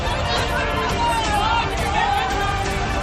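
A crowd of protesting women gathers against smart meters being installed in homes, heard as a dense, steady babble of many overlapping voices close by, chattering continuously without pause.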